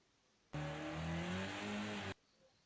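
Race car engine at full throttle in Project Cars 2 on the Nürburgring sprint track, a loud sustained high-revving drone with rising harmonic whine lasting under two seconds, cutting in and out abruptly.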